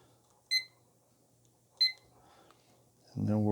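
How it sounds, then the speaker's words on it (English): A kitchen timer beeps while long black coffee brews: two short, bright electronic beeps about a second apart, then a voice begins speaking. "Take our timer."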